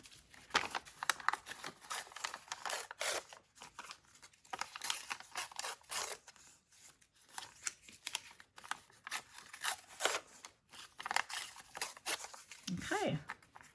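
Coffee-dyed paper torn by hand into clusters, with repeated dry ripping and crinkling bursts spread across the whole stretch, close and moderately loud, plus a brief low thump near the end.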